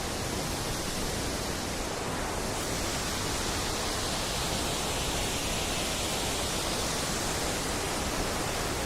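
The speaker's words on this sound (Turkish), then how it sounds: "Bugün dediğim gibi ters açıdan çekiyorum. Tortum Şelalesi'ni." Tortum Waterfall in Turkey, the country's longest waterfall, sends out a steady, unbroken roar of rushing water, even and full throughout with no voices over it.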